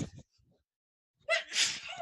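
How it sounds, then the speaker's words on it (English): A single sharp sneeze bursts out after a brief quiet pause, loud and close, preceded by a short breathy sound. "oh, I'm going to sneeze."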